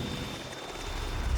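Steady, moderately quiet rotor and engine drone from a Cormorant search-and-rescue helicopter of 413 Squadron on an Arctic rescue, a continuous broadband roar with a faint high whine and no talk.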